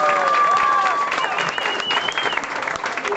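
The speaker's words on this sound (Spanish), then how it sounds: "Un aplauso también a Veracruz," A crowd claps for the Veracruz delegation at a son music tribute concert, a steady, fairly close round of applause with scattered voices and a few cheers.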